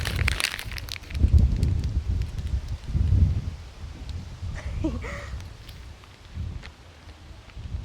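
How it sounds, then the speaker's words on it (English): Strong wind gusts blowing outdoors, buffeting the microphone with low rumbling bursts that rise and fade unevenly throughout, with a faint voice briefly audible near the middle. "I think it's really windy"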